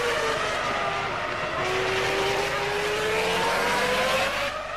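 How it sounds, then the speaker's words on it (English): A Formula 1 race car at the 2002 Malaysian Grand Prix accelerates out of a corner with traction control engaged, its high engine whine rising steadily and loudly for several seconds, stuttering slightly, with no talk. "There you hear traction control."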